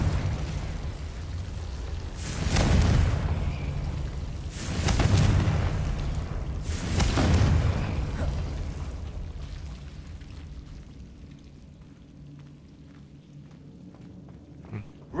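Three heavy booming blasts from the Confringo fire spell in Hogwarts Legacy erupt about two seconds apart, each with a rumbling low tail, then fade into a quiet ambient hum.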